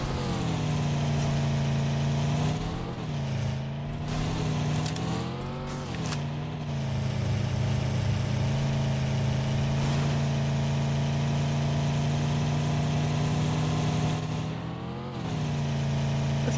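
Video game vehicle engines roaring steadily as players drive off together, a loud continuous mid-pitched drone with brief revving swells and shifts, no voices.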